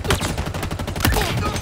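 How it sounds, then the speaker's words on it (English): Rapid gunfire crackles in a Halo Infinite multiplayer match, a quick burst of repeated shots with a louder crack near the end, heard alone without talk. "Who's shooting at me?"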